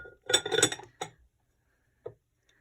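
An Indiana Glass Madrid reproduction raised candy dish from the 1970s being handled: a cluster of close glassy clinks and knocks, then a single clink and a lone faint tick after a pause.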